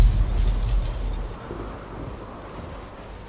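Thunderstorm in the video game The Witcher 3: a loud, deep rumble of thunder opens and slowly fades into a steady wash of rain and wind, with no voices.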